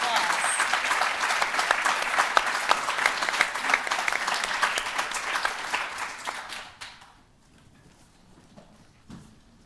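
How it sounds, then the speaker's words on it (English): An audience at a responsible recruitment forum panel claps loudly and steadily for several seconds, then the applause fades out abruptly, leaving near silence with a few scattered claps. "give them a round of applause"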